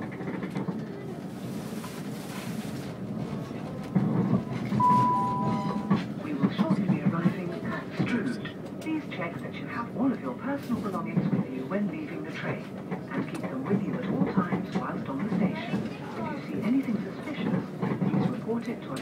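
A class 375 electric train rolls into Strood station, a steady low rumble of wheels and carriage noise from on board, with a public announcement voice heard over it.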